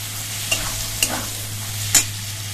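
Boiled mung dal added to fried spices in a pan, giving a steady soft sizzle with a few sharp scraping stirs, close and continuous under a low hum.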